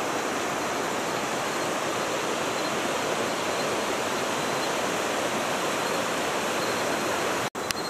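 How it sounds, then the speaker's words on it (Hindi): A small village river flows in a dense, continuous rush of water, loud and close, unbroken for the whole stretch with no voices, ending in a brief cut. "तो और ये प्यारी सी नदी रहती है"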